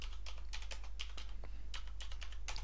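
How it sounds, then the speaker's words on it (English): Quick, crisp keystrokes on a computer keyboard as a search phrase is entered, a near and steady patter of individual taps over a constant low hum, with no voices. "so if we just type in wind power"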